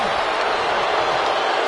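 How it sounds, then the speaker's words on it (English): Crowd reaction in the WWE 2K26 wrestling video game, a steady dense roar of spectators filling the whole moment at even loudness, with no clear peaks or individual voices standing out. "Steiner drawing a big reaction from the crowd"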